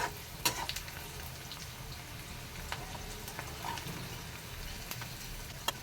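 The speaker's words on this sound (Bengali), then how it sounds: "তো এই যে আমি লালচে করে ভেজে নিয়েছি আমার পেঁয়াজগুলো।" Onions fry in oil until reddish and crisp in a home kitchen, a faint, low sizzle with scattered soft pops and a few utensil clicks, steady throughout with no voices.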